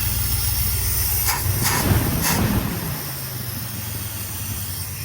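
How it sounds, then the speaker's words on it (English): A 1977 International Scout II V8 engine running fast on the fast idle cam after an ignition install: a steady, loud, high-revving drone with a few brief clanks, settling slightly lower toward the end. "I guess I had it on the fast idle cam, that's why it's revved up so high"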